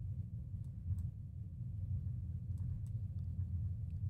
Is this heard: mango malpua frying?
no